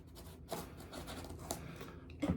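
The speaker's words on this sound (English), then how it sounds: "So let's go ahead and crack the tape here." Packing tape is slit and scraped open on a cardboard box during an unboxing: quiet, close scratchy slicing strokes with a few sharper rasps and a brief tearing burst at the end.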